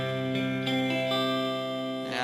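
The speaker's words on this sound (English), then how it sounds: "Now if I hit on the blues echo" A guitar chord played in GarageBand on an iPad with the blues echo effect rings out loud and sustained, its tone decaying through repeating echoes before another strum enters at the end.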